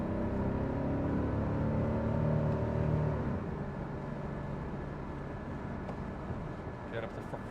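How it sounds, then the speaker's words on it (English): Exhaust of a 1987 Mercedes-Benz 560SL while driving, a loud low engine drone that eases off after a few seconds into steady road and cabin rumble. "Exhaust sounds good."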